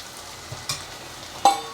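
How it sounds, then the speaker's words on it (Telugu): Onion frying in oil in a pan for a curry, with a steady low sizzle and a few brief sharper crackles and stirring scrapes. "ఉల్లిపాయ కొంచెం సేపు వేయించుదాం."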